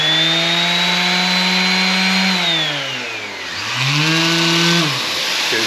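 A Mirka Deros orbital sander whines steadily alongside a dust extraction vacuum's hum, its pitch dipping and rising once midway as the motor slows and spins back up.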